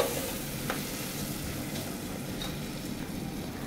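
Tomato masala sizzles and fries in a pan while a spoon stirs it, a steady close hiss with occasional faint scraping and no talk.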